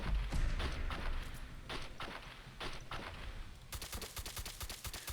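Desert Eagle pistol fire in the Fallout 4 video game: scattered sharp shots over a busy game background, then a rapid, evenly spaced run of crisp gunshots toward the end.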